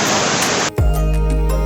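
Steady, loud rushing of a jungle river during a forest trek to a waterfall, broad and close, broken by a short gap before a deeper, heavier roar of flowing water continues.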